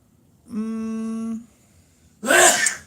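A sharp, noisy sneeze bursts out after a drawn-in breath with a tonal, voiced quality, loud and close.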